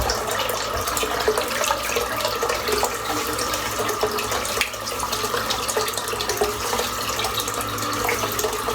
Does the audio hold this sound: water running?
yes